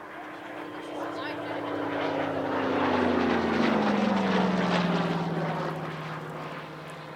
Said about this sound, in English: Up next, Bob Davies' Yak 3 UTI.